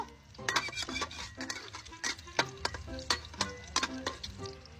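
An egg frying in a pan, with soft sizzling under a series of sharp metallic scrapes and taps from a utensil against the pan, irregular and fairly close.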